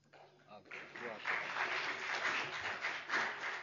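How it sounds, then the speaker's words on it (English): Conference audience applauding as a team is called up at a Software Freedom Day event, the clapping swelling after a quieter start into a steady, dense round that holds to the end, with some voices mixed in. "let's give them a warm round of applause"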